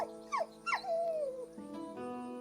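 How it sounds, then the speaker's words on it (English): A dog in a tabletop role-playing game session whimpers with high, falling whines, two quick cries then a long descending whine, followed by softer tonal sounds, faint and close. "Oh, the poor doggy."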